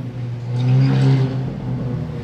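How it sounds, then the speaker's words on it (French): A deep Ferrari 458 Liberty Walk engine rumbles nearby, swelling louder as it revs and passes, then settling into a lower growl. "J'ai déjà vu des voitures violentes, mais alors celle-là, 458 Liberty Walk de GMK."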